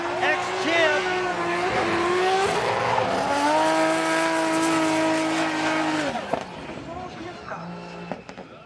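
Tires squeal in long rising and falling screeches as a drift car pushes through a run at a Formula Drift Japan event, loud and close over engine roar, then fading near the end.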